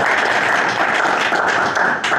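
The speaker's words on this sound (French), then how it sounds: "on peut les applaudir" Applause at the close of a live-streamed journalism and interactive storytelling session, a dense, steady wash of clapping from a nearby audience that holds at an even loudness for about two seconds.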